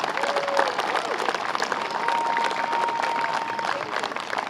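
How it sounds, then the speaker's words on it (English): Outdoor crowd applauding at a Little League baseball opening day parade in Saugus, steady dense clapping with cheering that carries through the whole stretch, a faint sustained tone running underneath. "That deserves a huge round of applause"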